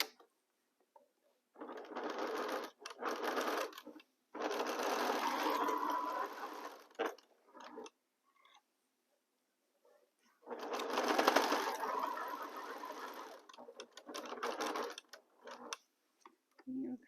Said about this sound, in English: And let's start sewing again.